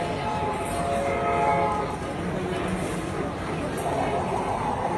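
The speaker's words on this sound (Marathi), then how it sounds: "मस्त ट्रेन आलेली आहे आपली" A train pulls into a station at Hyderabad, its steady rumbling clatter filling the platform, with a horn-like tonal blare early on and crowd babble underneath.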